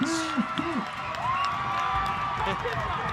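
A high-school football crowd reacts after a touchdown at Cass Tech, a moderate wash of cheering and clapping in the stands with a few brief whistles and shouts, steady throughout.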